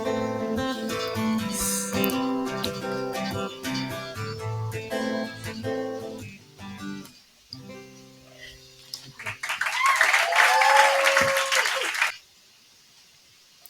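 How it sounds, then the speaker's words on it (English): An audience applauds at the end of a performance of a song, with a short, dense burst of clapping after music fades, cut off abruptly. "Yes, applaud, applaud."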